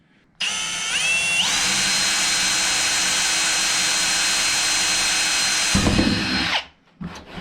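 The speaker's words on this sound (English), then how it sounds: "Now I'm going to drill a hole dead center here for the wiring to go through." A power drill bores a hole through the cab panel of a Kubota BX tractor, a steady high whine held for about six seconds that rises slightly in pitch early on, ending with a brief rattle as the bit breaks through.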